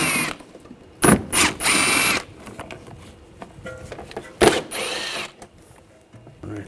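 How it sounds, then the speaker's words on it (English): Ratchet turning an 8mm socket to remove screws from the inner fender of a 2009-2013 BMW 328i, several close, loud bursts of whirring clicks separated by pauses, with quieter handling noises between. "I'm just going to use a 8mm socket,"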